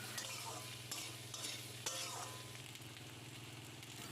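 Cabbage stalks and chopped onion sizzle steadily in a frying pan while a utensil scrapes and stirs through them in irregular strokes, close and continuous, with no talking.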